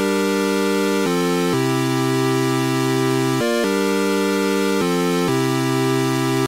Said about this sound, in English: playing a very, very simple sort of pulse type wave.